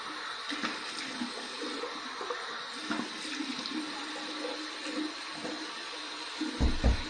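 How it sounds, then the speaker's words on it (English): Water runs steadily from a bathroom faucet while rinsing after a wet shave, a soft continuous hiss and splash at moderate distance, ending with a brief clunk. "Let me just rinse a little bit from the faucet."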